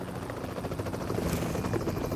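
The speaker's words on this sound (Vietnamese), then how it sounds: "Nào, ra đây làm quả solo trên trực thăng luôn này." A helicopter in a combat video game drones steadily with a dense rotor whir, holding at a constant moderate level and growing slightly louder toward the end, with no talking.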